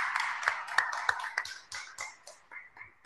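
A small audience at a history conference on Tianjin claps after a talk, a few sparse, uneven claps that thin out and fade toward the end, fairly close and quiet.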